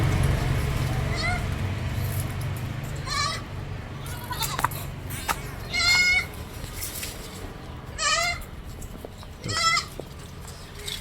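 Several crossbreed goats, five does and a buck, bleat in short wavering cries, some close and loud, others fainter, with a low hum and occasional clatter in between.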